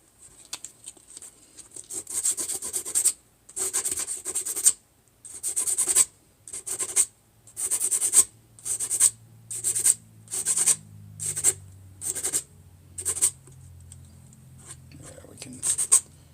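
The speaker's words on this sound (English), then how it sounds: "little sandpaper" Small piece of sandpaper rubbed by hand in about a dozen short, regular scratchy strokes, close and fairly loud, with low hums in the background.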